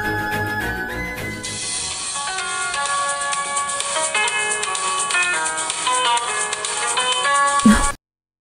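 A phone ringtone plays at moderate loudness, a steady melodic tone sequence lasting several seconds that cuts off abruptly as the call is answered.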